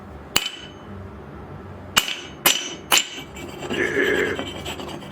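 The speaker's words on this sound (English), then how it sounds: "see if this stuff ignites under a hammer" Four sharp hammer blows on a pile of rocket fuel mixture in a friction test ring out at uneven intervals, loud and close, followed by a scraping, rasping rub.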